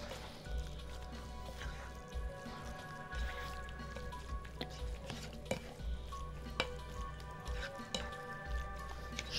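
A spicy appetizer with harissa and green chili simmers and fries together in a pan, giving a soft, steady sizzle and bubbling, broken by periodic stirring knocks over a low hum.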